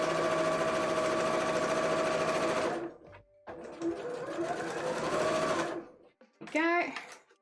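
A sewing machine stitches a cosplay costume, running close up in a steady whirring burst for about three seconds, pausing briefly, then running again before a short spoken remark at the end.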